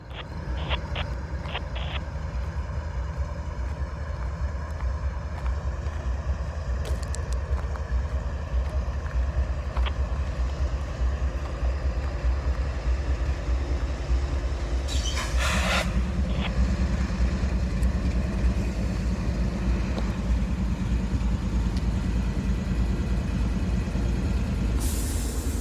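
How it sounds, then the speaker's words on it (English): A Union Pacific train rolls past in the evening near an Amtrak stop, giving a steady, loud, close rumble with sustained tonal hums and brief hissing bursts like air brakes, with no voices. "Here comes a Union Pacific train."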